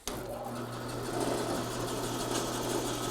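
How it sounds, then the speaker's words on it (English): A bandsaw cuts wood for a plant stand, its motor giving a steady, loud whirring drone that builds slightly as the blade bites and then holds evenly, with no talking. "Go back to the bandsaw."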